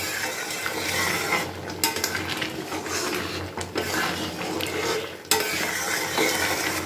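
Dal with sugar, ghee and garam masala is stirred steadily in a pot, a continuous close scraping and bubbling sizzle with irregular clatters of the spoon against metal, no voices.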